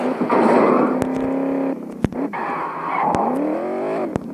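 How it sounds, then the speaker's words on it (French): A car engine in a video game revs and drones steadily, pitch rising and falling as it accelerates, with sharp clicks and brief tire noise, no talking. "on va faire des petits tours, tester la voiture."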